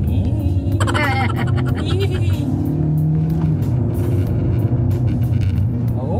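Interior drive in a 2025 Hyundai Elantra base model: a steady, loud low engine and road drone runs throughout, with a brief higher whine early on and faint background talk.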